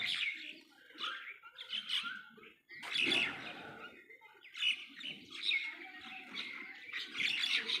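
Busy, high-pitched chirping from several birds, continuous and fairly close, with occasional squawks and no speech.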